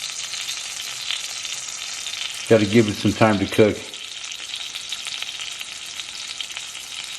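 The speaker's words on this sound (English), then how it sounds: "Kind of like deep frying a frozen trout in bacon grease." A frozen trout deep frying in bacon grease gives a steady sizzling crackle throughout, with someone talking briefly over it partway through.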